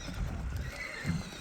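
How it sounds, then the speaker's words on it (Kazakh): Unbroken chestnut stallion with a white blaze neighing at a watering trough among horses, a faint, fairly distant whinny rising and falling over a low background rumble. "Айғыр міне мына жирен төбелі айғыр тұрған."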